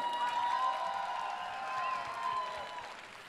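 Anime concert audience at a convention applauding and cheering for the band, a moderate crowd roar with scattered clapping and whoops, rising and falling at mid distance.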